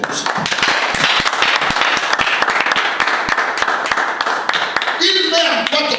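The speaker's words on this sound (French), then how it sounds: "est-ce qu'on peut acclamer ton très fort pour ça?" Church congregation at a pastor's service breaks into loud, sustained clapping and cheering, dense rapid claps filling the whole stretch with voices mixed in, tapering near the end.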